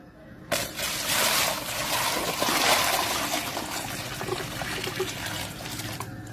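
Water pours steadily into a big basin set out for street dogs and cats, a continuous splashing, trickling rush that starts abruptly and fills the whole stretch, close and fairly loud.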